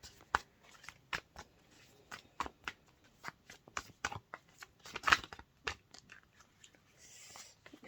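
Cards being shuffled and riffled in a steady series of crisp, close snapping bursts, fairly quiet, with no voices.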